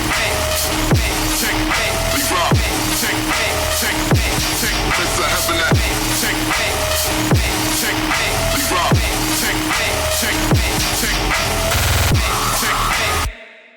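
A dubstep drop pattern built from heavy synths and an added loop pounds along in a loud, dense groove. Punchy hits recur at a steady rhythm roughly every second and a half before cutting off abruptly.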